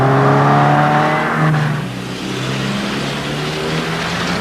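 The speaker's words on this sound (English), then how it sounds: "release the emergency brake and accelerate" A car accelerates hard out of a bootleg turn after the emergency brake is released, its engine loud and close, revving with a rising mid-pitched roar that settles into a steady pull.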